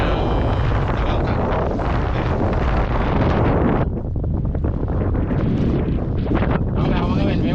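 Strong wind at sea beside a small fishing boat buffets the microphone in loud, continuous gusts that briefly ease midway, with rough low rumbling throughout.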